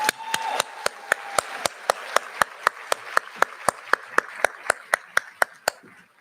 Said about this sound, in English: One more round of applause for all of our honorees.